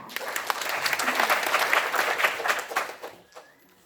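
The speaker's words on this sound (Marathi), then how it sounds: "आपण सर्वांनी स्वतःसाठी एकदा जोरदार टाळ्या वाजवा" An audience at a community bride-and-groom introduction gathering bursts into loud, dense applause that holds strong for a few seconds, then tapers off and fades to near quiet.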